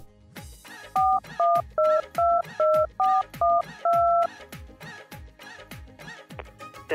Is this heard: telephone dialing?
yes